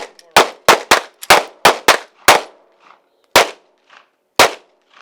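Defensive pistol shots in a rapid string of about seven sharp cracks, then two more spaced shots after a pause, loud and close with faint voices between.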